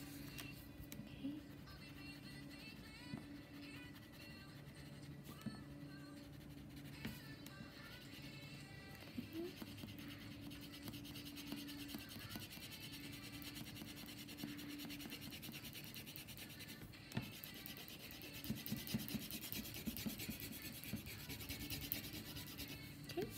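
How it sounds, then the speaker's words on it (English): A dark green crayon rubs back and forth across paper in a leprechaun drawing, making a faint continuous scratchy scribble that goes on for over twenty seconds with soft background noise. "I'm going to use a dark green crayon, not my light green crayon."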